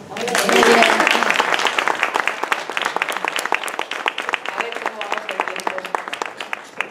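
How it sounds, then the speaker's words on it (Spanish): Audience applause at an introductory EFT tapping workshop: a dense patter of many hands clapping, loudest at the start, then thinning into steady, slightly uneven claps, with voices talking briefly over the opening. "Muy bien, pues un aplauso"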